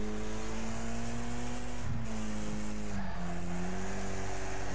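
Racing car engines in the video game Wreckfest drone loudly and steadily, with a gear change and shifting pitch as the pack runs close together, plus a faint tire squeal.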